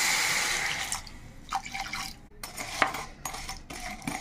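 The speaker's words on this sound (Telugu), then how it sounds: "ఒక చిన్ని గ్లాసులు వాటర్ పోస్తుంది" A small glass of water poured into a pan while making ragi beetroot halwa, heard as a few brief splashes, drips and light clinks of kitchenware, close and fairly quiet, with no talking.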